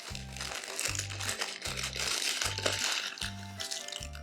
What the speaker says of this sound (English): now I'm going to remove the parchment and the beans